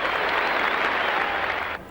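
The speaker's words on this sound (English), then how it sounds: "here's the applause for the Australian captain, Kim Hughes, out in the 90s" A cricket crowd at the 1983 Australia versus Pakistan third Test applauds Australian captain Kim Hughes as he walks off after his innings in the 90s. The clapping is steady and dense, then cuts off abruptly.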